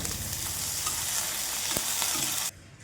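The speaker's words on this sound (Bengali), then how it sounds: "সমস্ত সবজি ভেজে নেবো এবার।" Chopped radish, beans and potatoes fry in hot oil in a wok with a dense, continuous close-up sizzle, steady throughout before dropping off abruptly near the end.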